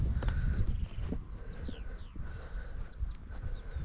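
Horses walking close by at an abandoned WW2 Chain Home radar station in Scotland, with a steady run of soft, irregular hoof thuds and rustling under birdsong, no talk.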